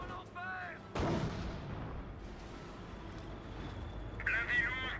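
Soldiers' weapons fire on command in the Company of Heroes video game, a sharp loud blast followed by a long rumbling decay under game noise and faint radio-like voices.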